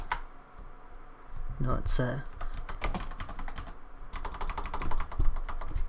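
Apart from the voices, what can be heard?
typing on a computer keyboard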